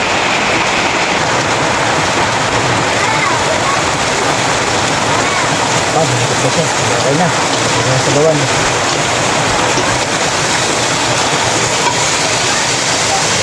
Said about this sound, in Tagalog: Grabe, lakas ng ulan dito sa amin mga lods.